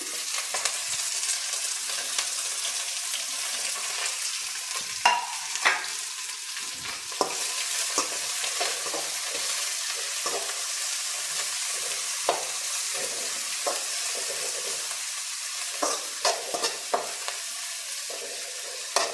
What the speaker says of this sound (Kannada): ಈಗ ಒಗ್ಗರಣೆಯಲ್ಲಿ ಬೀನ್ಸ್ ಎಲ್ಲ ಚೆನ್ನಾಗಿ ಬೇಯುತ್ತೆ